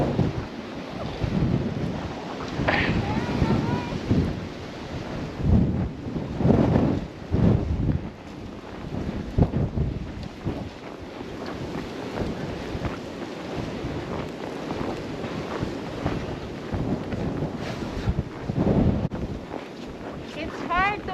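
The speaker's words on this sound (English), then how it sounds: "Turn your back to the wind, Gobes." Blizzard wind blowing snow hard against people standing outside, a steady, loud, roaring gust that buffets the microphone throughout, with voices talking over it.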